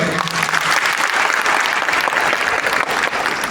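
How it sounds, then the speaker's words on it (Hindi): Loud, dense applause from an audience at a motivational wellness talk, sustained and steady for the whole stretch with no break. "तो मैं चाहता एक बार उनके लिए जोरदार ताली हो जाए।"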